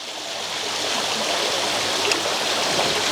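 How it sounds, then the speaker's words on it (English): A small waterfall in a landscaped garden pond holding terrapins, pouring as a steady, close, even splashing wash that holds constant with no voices. "There's a little waterfall."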